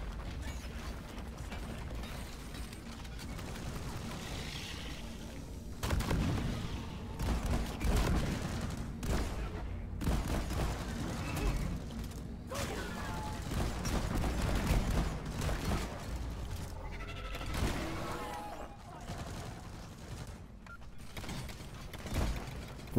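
Weapon fire in the video game Deep Rock Galactic rattles in rapid mechanical bursts, with dense clattering shots and louder volleys rising mid-clip, heard fairly quietly throughout with no talk.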